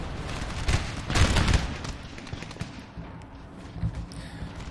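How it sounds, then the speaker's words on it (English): A cannon battery firing grape shot in Napoleon: Total War, heard as a dense rumbling fusillade of overlapping blasts and crackling fire, heaviest early and then settling into scattered distant shots. "This cannon unit, this battery, has to actually fire grape shot at the enemy."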